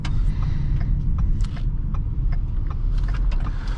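A 2014 Ford Taurus Police Interceptor with a 3.7L engine accelerates, giving a loud, steady low engine roar heard from inside the car, with a few light rattles on top.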